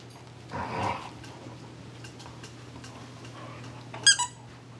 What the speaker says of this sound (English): She's figured out how to make it squeak.